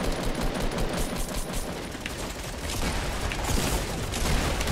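A submachine gun in the battle royale game Fortnite fires continuously in a dense, rapid, steady rattle that stays loud and close for the whole stretch, with no speech over it.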